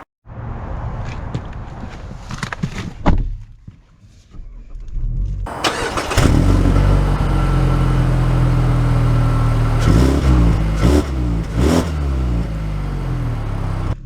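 A 2023 Mazda 3 hatchback with AWD starts up, its engine catching after a few seconds and then running steadily and loudly nearby, with a few sharper bumps and revs later on.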